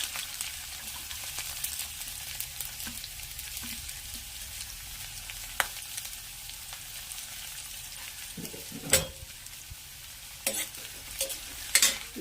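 Garlic and onion frying and being stirred in a pan for a jackfruit and prawn dish, a steady close sizzle with scraping stir strokes and a few sharp utensil clinks toward the end.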